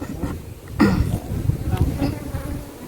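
Honeybees buzz in a low, steady drone at a super hive on a Jamaican bee farm, with a fuller swell of buzzing about a second in and brief speech-like sounds mixed into the hum.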